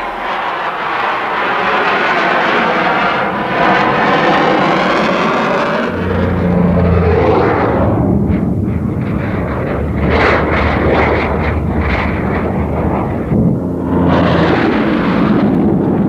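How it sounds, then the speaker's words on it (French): A compound helicopter flying at high speed produces a loud rushing roar with shifting whine, then a deep rumbling throb and fluctuating bursts as it passes close, with no talking. "Voici le premier hélicoptère capable de voler à plus de 480 km/h."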